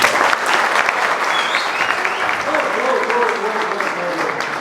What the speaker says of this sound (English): Let us give Kirsten's parents and grandparents a round of applause.